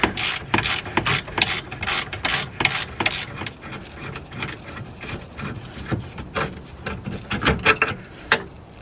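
Ratchet working loose a front control arm bolt on a BMW E90 3 Series, a rapid run of loud, close clicking strokes in quick bursts, then slower uneven ratcheting.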